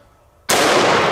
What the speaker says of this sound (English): 500 Magnum on the right. 500 Magnum.